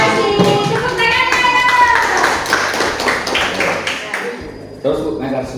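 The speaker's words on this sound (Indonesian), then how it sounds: "Tepuk tangan." Schoolchildren clapping in a classroom, a burst of hand claps mixed with children's voices and talk that tapers off, then a single teacher's voice.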